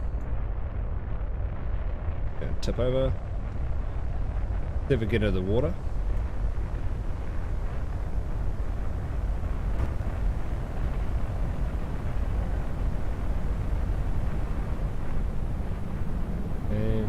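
A rocket engine burns in the video game Kerbal Space Program with a steady, continuous low roar throughout. A person talks over it intermittently.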